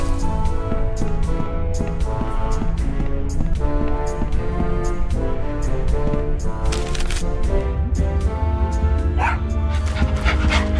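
Small dog barking and yipping in Tales of Monkey Island, short sharp barks scattered over a dense, steady bed of game music and effects, fairly close and mixed in rather than standing alone.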